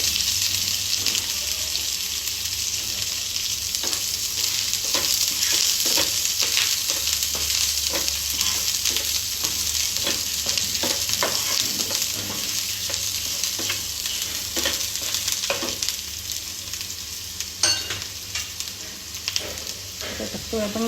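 Finely cut chili for spring roll filling sizzles steadily in hot oil, a loud continuous crackling hiss with scattered scraping and stirring taps throughout.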